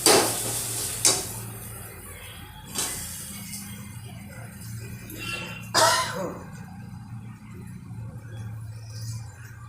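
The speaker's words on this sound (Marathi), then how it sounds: "अतिशय कमी तेल बटाटे परतवायचे" Potatoes for fasting batata vada sauté in very little oil with chilli and salt, a soft steady sizzle running underneath sharp intermittent scrapes and clinks of a spoon against the pan.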